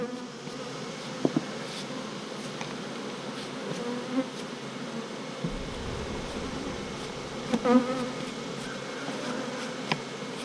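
Dense honeybee buzzing from a hive being worked as bees are brushed off a brood frame, a steady close swarm drone running throughout with a few louder bumps and knocks.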